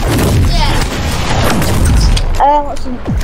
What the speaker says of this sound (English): He's shooting so fast.